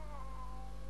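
A kitten meows in the video game Catz 5, a single drawn-out, wavering call heard up close for about a second over a steady low background hum.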